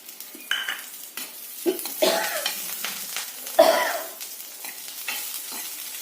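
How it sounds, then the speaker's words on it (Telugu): Dried red chillies and curry leaves sizzle in tempering oil for a jujube chutney. A spoon scrapes the pan in repeated stirring strokes over a steady hiss, close and fairly loud, with no talking. "ఎండుమిరపకాయలు వేస్తున్నాను. కొద్దిగా కరివేపాకు వేస్తున్నాను."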